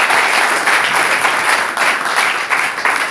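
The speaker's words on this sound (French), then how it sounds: "Applaudissons pour le Seigneur." A church congregation claps together in praise of the Lord, dense steady applause filling the whole stretch at close range, swelling and dipping slightly with no voices standing out.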